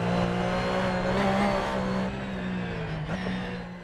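A racing car engine in Assetto Corsa, driven with a sim wheel, holds a loud, steady drone that climbs slightly, then dips with a gear change and picks up again.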